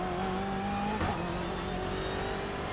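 A BMW M8 race car in iRacing accelerates hard at Donington National, its engine a loud, steady droning whine with layered harmonic tones held throughout, no talking.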